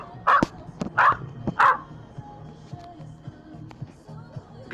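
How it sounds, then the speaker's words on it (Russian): A dog barks three times in quick succession, loud and close, followed by a few softer yips over a quiet background hum. "Собака."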